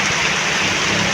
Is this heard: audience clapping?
no